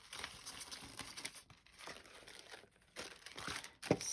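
Paper folded down for a grungy junk journal, giving soft crinkling and crumpling rustles in short bursts, close and fairly quiet, with no voices.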